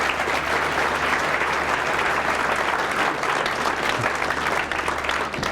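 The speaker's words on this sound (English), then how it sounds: "So can you just give a round of applause to everybody who participated?" Applause for everyone who took part in a school-district festivity at a State of the Schools event, a dense, loud, sustained crowd clapping that holds steady for several seconds before easing slightly at the end.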